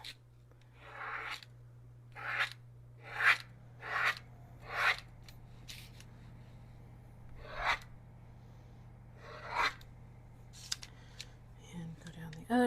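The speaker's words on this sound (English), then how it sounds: "Cut this into strips." A knife cuts rolled strudel pastry dough into strips for an apple strudel, giving a series of short, distinct slicing strokes spaced a second or so apart, close and fairly soft, with long quiet gaps between them.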